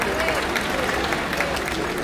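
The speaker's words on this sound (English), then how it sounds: "Please give yourselves a nice applause." An audience of elite members aboard the Sun Princess cruise ship applauds, a steady wash of clapping filling the room with no pause.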